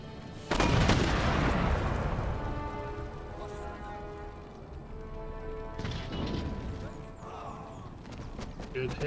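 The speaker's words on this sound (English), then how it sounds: "They're just lobbing shells, shots roughly where I want them on the ground." Artillery in Empire: Total War shells a city, giving a loud booming impact that decays into crackling debris, then a second blast with rumbling aftermath beneath a spoken commentary voice.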